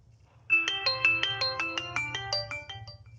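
A Redmi 3X smartphone plays its ringtone after a charging-connector board repair, a bright, chiming melody of quick repeated notes, clear and close after a short quiet start.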